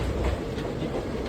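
A train rolls through Thrissur railway station in Kerala in the morning, giving a steady, fairly loud rumble with a faint clickety-clack of wheels over rail joints throughout the short stretch, with no voices.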